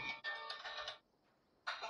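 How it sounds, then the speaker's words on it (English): A phone rings for an incoming call, with two bright electronic ringtone bursts separated by a short pause, clear and close with no talk. "Oh, I'm getting a phone call here."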